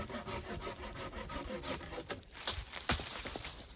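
A pole saw cuts through a tree limb outdoors, its blade rasping through the wood in steady back-and-forth strokes, fairly quiet and continuous, with a few sharper scrapes and knocks near the end.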